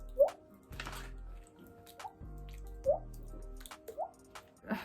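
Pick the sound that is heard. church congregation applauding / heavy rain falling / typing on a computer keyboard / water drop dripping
water drop dripping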